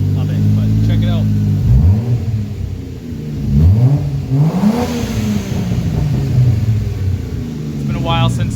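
A Toyota Supra MK4 engine idles with a deep rumble and is revved several times in rising, falling swells, close and loud, with a voice talking over it.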